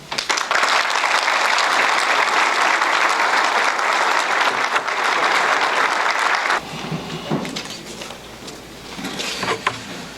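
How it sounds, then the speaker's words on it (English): At a law enforcement appreciation breakfast award ceremony, a room full of people claps loudly and continuously, then the applause abruptly thins to scattered clapping and room clatter for the last few seconds. "one more round of applause for all the award recipients as well as their supervisors and managers"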